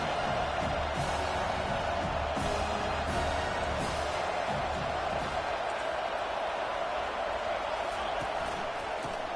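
A stadium crowd roars in the NCAA 25 American football video game, a dense continuous wash of noise with a commentator talking over it.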